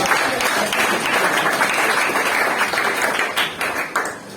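A church congregation breaks into loud, sustained applause and clapping, filling the room evenly for several seconds before starting to taper off.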